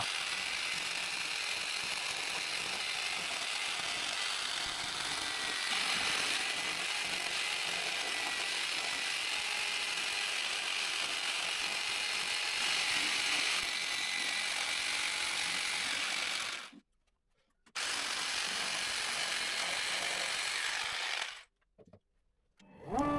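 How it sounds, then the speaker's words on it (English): A jigsaw cuts a head shape out of a pine shelf board with a paper template taped on, giving a loud, close, continuous buzzing saw rasp that stops abruptly twice near the end before briefly restarting. "I attach the template with double-sided tape to a pine shelf and cut out the head using a jigsaw"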